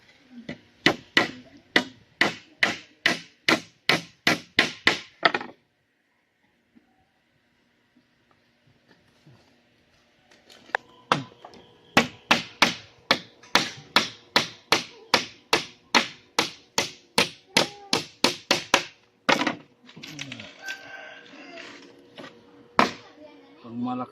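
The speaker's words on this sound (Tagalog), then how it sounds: "Malakasan namang martilyo." Hard, rapid hammer strikes drive nails in two long runs separated by a quiet stretch while building a wooden seat, loud and close, with a brief voice near the end.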